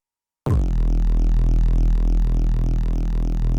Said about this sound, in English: using a sample of a detuned saw kind of sound